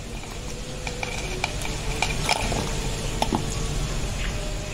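Frozen molokhia dropped into boiling chicken soup in an Egyptian home kitchen, a continuous bubbling and sloshing with faint clinks and stirring sounds, no voices.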